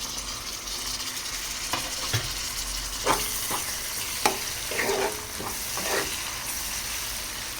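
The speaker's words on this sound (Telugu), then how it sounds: "ఇలా దొండకాయలు కాస్త ఫ్రై అయిన తర్వాత ఇందులోకి కట్ చేసి పెట్టుకున్న టమాటాలు వేసి" Ivy gourd frying in a pan as tomatoes go in, a continuous sizzle broken by several scraping stirs and soft knocks from a spatula, close and fairly loud, no talking.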